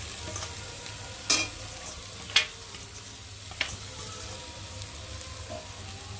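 Boiled chow mein is stirred in a hot frying pan over a steady sizzle. A few sharp scrapes of the spatula against the pan stand out, and no one speaks.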